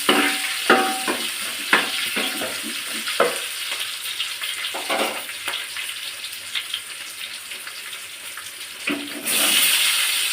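Onions frying in a pan on the stove for a home-cooked okra dish, a steady soft sizzle with intermittent stirring scrapes, close by, ending in a louder burst of hiss, with no talking.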